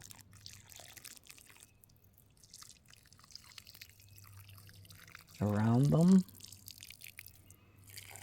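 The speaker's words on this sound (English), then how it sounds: "I'm just going to gently pour some water." Water is gently poured onto freshly planted onion starts in a garden. A brief, close splash of pouring water lasting under a second rises out of quiet, while a voice speaks softly nearby.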